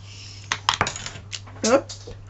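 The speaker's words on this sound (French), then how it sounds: "C'est mon cutter qui vient de tomber." A utility knife drops and clatters on a hard surface in an indoor crafting setting: several sharp metallic ticks and bounces close by, with quiet speech-like sounds among them.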